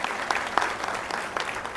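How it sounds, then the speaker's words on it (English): Applause from an audience for the panelists at the close of a dialogue on population and youth, a steady dense clapping that runs the full length with small peaks, no voices over it. "please give a big round of applause to our panelists"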